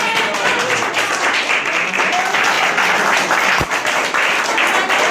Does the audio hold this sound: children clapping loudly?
yes